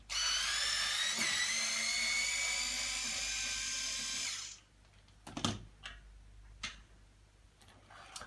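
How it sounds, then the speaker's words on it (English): A power drill unscrews screws holding a plastic hinge piece on an Emmaljunga Mondial De Luxe pram chassis; a loud, close whine runs for about four seconds, then stops, followed by a few faint clicks and taps. "unscrew these screws that hold this plastic hinge piece in place"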